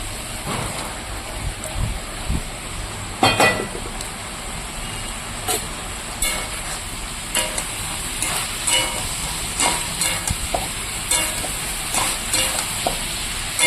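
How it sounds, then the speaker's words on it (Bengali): Fried small fish cooking in a vegetable chorchori, a continuous low sizzle with repeated spatula scrapes and clicks against the pan. "এবার আমি চচ্চড়িটার মধ্যে মাছগুলো দিয়ে দেবো ভেজে রাখা মাছগুলো এবার আমি চচ্চড়িতে দিয়ে দেবো"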